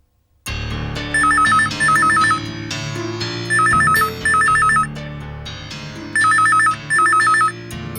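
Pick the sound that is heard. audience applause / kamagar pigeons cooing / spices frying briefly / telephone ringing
telephone ringing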